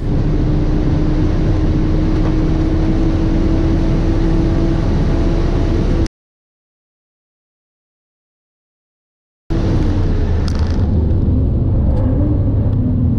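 A Porsche 911 GT3 R race car on track gives a loud, continuous engine roar heard from close by. The sound cuts to silence for a few seconds, then the engine drone returns with shifting pitch.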